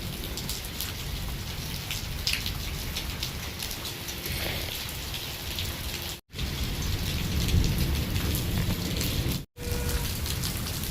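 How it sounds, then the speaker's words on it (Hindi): Heavy rainstorm with large hailstones falling over a village field, a dense, loud roar of rain and pelting ice with rumbling thunder underneath, broken by two abrupt momentary dropouts. "बहुत बड़े बड़े ओले गिरने लग गए यहाँ।"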